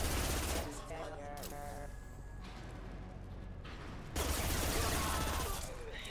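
Rapid submachine gun fire in Mass Effect 2 combat, dense bursts of shots running under continuous game music and effects, with a brief lull mid-clip before firing picks up again.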